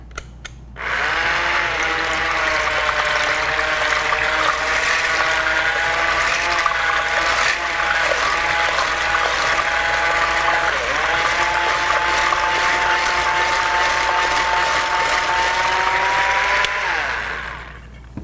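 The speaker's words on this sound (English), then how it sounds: "I'm going to get out my whisks here, put those on, plug in our battery" A battery-powered electric hand mixer beats eggs in a continuous loud, steady motor whine with a rattling whisk. It runs nonstop for about sixteen seconds before winding down, with no talking over it.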